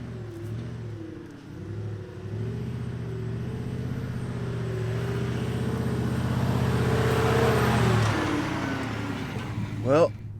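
Off-road truck climbing a soft sand slope, its engine held at steady high revs with a wavering, rising hum that strains for several seconds, then drops off, followed by a brief sharp clatter near the end.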